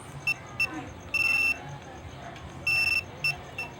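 A two-way motorcycle alarm remote beeps in short bursts and longer runs of electronic tones, a quick irregular pattern heard close over a low background hiss.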